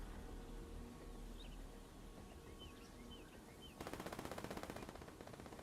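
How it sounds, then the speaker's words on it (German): Gunfire in the shooter video game The Division 2 breaks out as a fast automatic burst in the final seconds, fairly faint, after quiet ambience with chirping birds. "Irgendwo schießen schon."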